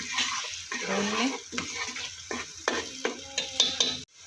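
Onion paste and yogurt frying in a pan for kofta curry, a soft steady sizzle with light stirring scrapes close by, no talk.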